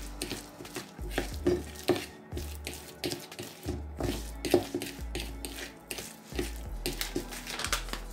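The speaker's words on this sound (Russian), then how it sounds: "Сахарозаменитель. Перемешиваю." A spoon scrapes and knocks through a thick cottage cheese mixture with sweetener in a bowl, in irregular soft strokes and clinks, close up with no talking.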